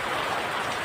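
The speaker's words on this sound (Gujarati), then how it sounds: "બહુ બધો વરસાદ આવે ને" Heavy rain pours down in a steady, dense hiss of drops striking surfaces at a house, with no voices, filling the whole brief moment.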